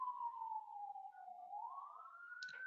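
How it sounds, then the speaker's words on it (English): An ambulance siren passes by, one steady wailing tone that dips low and then climbs again, heard alone and fairly clear, with a brief clatter near the end. "For now, there's an ambulance."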